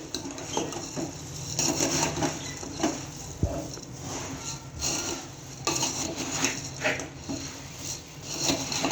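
A spoon stirs spices with puffed rice in a pan for sev mamra, making repeated rustling scrapes and light metallic knocks against the pan at close range.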